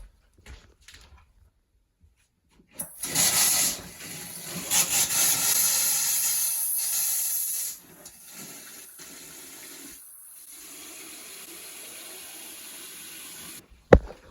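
Water suddenly gushes loudly from a tap for several seconds after a frozen winter plumbing repair, then settles into a quieter, steady flow before stopping.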